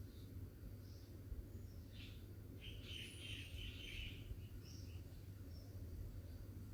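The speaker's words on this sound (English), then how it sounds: "You might notice the sound of the bird songs" Birds sing outdoors, with faint, scattered chirps and short trills that come and go over a soft, low background hum of open air.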